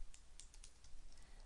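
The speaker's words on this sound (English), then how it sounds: "I am typing employee service" Rapid keystrokes on a computer keyboard, a run of sharp, irregular clicks close to the microphone over a low steady hum, with no voices.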